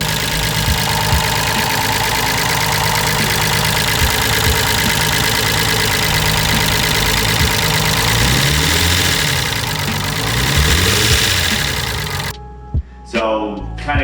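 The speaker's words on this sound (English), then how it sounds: "those are my lifters making that noise" An RB25 engine with noisy stock lifters runs at a steady idle, with a dense mechanical clatter layered over its hum. The noise is loud and constant and sits close by, then cuts off near the end.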